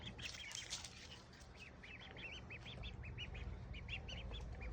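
Ducks quack in a series of short repeated calls, somewhat distant and faint over a steady background hiss.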